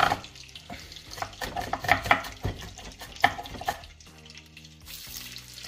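Onions fry in hot oil for an eggplant bulgur pilaf, sizzling up close as a utensil stirs and scrapes the pan in irregular bursts.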